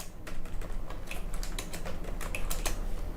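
Steady typing on a computer keyboard, a rapid, moderately close patter of key clicks running throughout with no talk.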